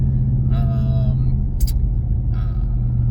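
Steady low road rumble and engine drone from inside a moving car, with brief faint higher noises over the constant hum.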